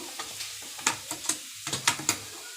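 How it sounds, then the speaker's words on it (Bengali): Grated carrots for carrot halwa fry on a full flame, with a soft sizzle under repeated scraping stirs that come as sharp clicks at an irregular pace. "গ্যাসটাকে ফুল করে একটু ভেজে নেব"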